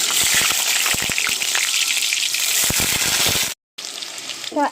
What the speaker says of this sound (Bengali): আমি একে একে এর মধ্যে ফার্স্ট টাইম আলুগুলো দিয়ে দেবো ভাজার জন্য